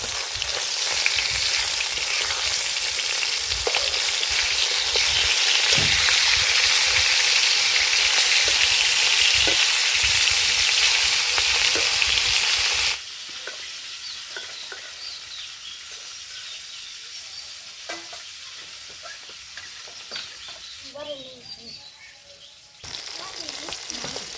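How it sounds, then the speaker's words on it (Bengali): Fish turned over to fry its other side in ghee, loud continuous sizzling up close for about thirteen seconds, then the frying drops to a quieter, softer crackle. "মাছের এক পিঠ ভাজা হয়ে গেছে, অপর পিঠ উল্টে দেব।"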